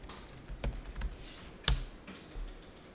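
Computer keyboard typing during accounting software data entry, a few scattered soft keystrokes with one sharper key press, likely the Enter key, near and alone without talk.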